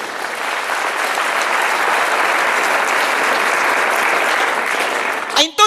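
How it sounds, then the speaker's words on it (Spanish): Sustained, loud applause from a church congregation fills the room evenly for several seconds, then fades as a voice begins speaking at the very end. "Dale fuerte palmas a Dios."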